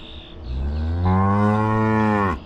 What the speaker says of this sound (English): A lot of excited bellowing today.